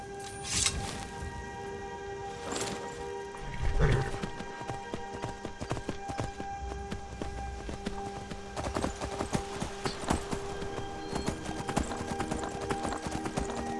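Horse hooves clip-clop in a steady, rhythmic trot from start to finish in the video game Skyrim Anniversary Edition, with a few louder thumps and background tones layered underneath.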